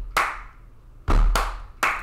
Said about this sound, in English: just me hitting my desk and clapping along